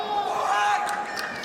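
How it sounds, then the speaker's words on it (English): A packed arena crowd at a UAE Warriors MMA event roars with a sustained wash of cheering and screaming, while a commentator speaks over it. "The fans are getting going here. I don't know if you guys can hear them screaming out there on the broadcast"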